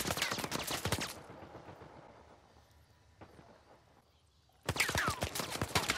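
Rapid automatic gunfire in Uncharted 4 multiplayer comes in two dense bursts, at the start and the end, with a quieter gap between them.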